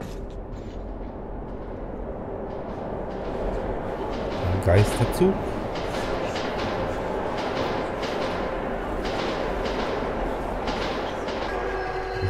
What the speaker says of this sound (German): jetzt kommt hier der Zug